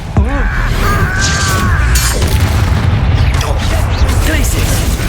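In Hogwarts Legacy, a Depulso force spell strikes with a loud booming impact and crashing debris amid dense battle sounds, a voice shouting briefly over the clamour.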